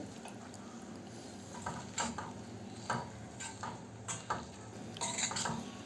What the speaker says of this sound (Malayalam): വെളിച്ചെണ്ണയും വേപ്പിലയും നല്ലതുപോലെ ഈ കഷ്ണങ്ങളുമായി മിക്സ് ചെയ്യാം